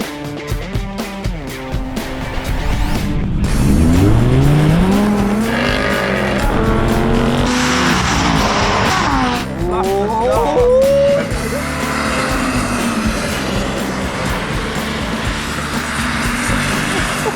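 Supercars drag race on a wet test track, with loud engines roaring up through rising gears, a car passing close, tyre hiss and shifting revs over a sustained din.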